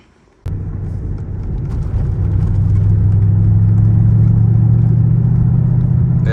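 Customized Mercedes CLS engine and exhaust accelerating, heard from inside the car as a low steady rumble that begins abruptly and swells gradually to a loud, even drone, with no one speaking.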